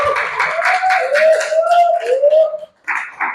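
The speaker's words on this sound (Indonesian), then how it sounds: "tepuk tangan dong" Classroom students clap their hands together in a burst of scattered claps, mixed with a sustained cheering vocal tone, before stopping abruptly near the end.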